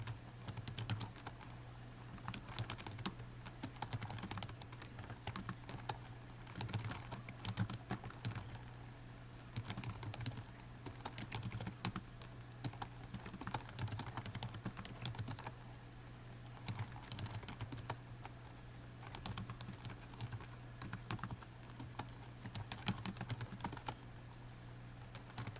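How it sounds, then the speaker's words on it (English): Steady stretch of typing on a computer keyboard while entering a paragraph of text in Microsoft Word 2013, with quick irregular key clicks running continuously and fairly faint, close up, with no talk. "let's go ahead and type that text there"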